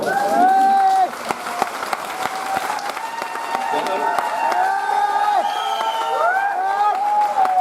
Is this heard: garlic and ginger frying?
no